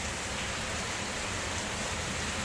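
Steady, dense rain hiss from heavy rainfall during a cyclone, a constant broadband wash with no distinct drops or gaps, fairly faint and even throughout with no voices.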